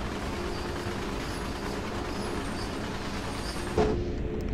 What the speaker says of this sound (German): So, erstmal den Zug auf Geschwindigkeit bringen.